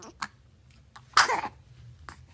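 A single sharp sneeze bursts out at close range in a quiet room, with a few soft breaths and small throat sounds before and after.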